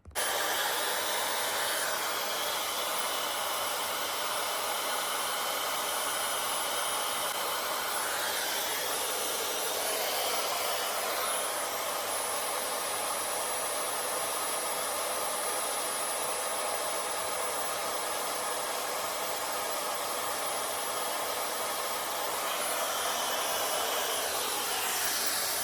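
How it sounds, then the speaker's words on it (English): Hair dryer fitted with a diffuser blows continuously on curly hair, a loud, steady whooshing roar with slight shifts in tone as it is moved around, lasting throughout with no talking. "let's get my diffuser out and we will now diffuse my hair"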